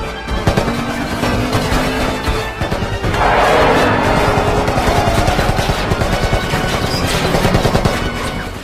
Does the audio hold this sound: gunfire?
yes